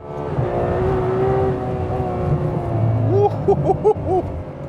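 A Ferrari 812 Superfast V12 engine revs and accelerates, its deep baritone rising through several sharp throttle blips toward the end.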